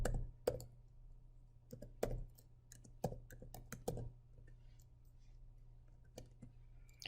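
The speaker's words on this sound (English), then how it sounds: "not just watch me type it in the video" Equations are typed into a calculator, scattered light key clicks and taps in irregular bursts over a low steady hum.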